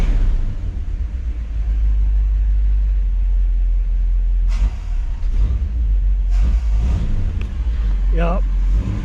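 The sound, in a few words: 1959 Chevrolet Bel Air 348 engine revving with gas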